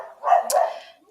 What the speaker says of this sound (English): There's going to be a bit of barking.